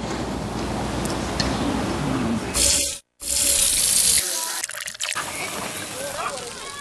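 Tap water runs steadily from a faucet, a continuous close rush with a brief cutoff midway, while a voice talks over it.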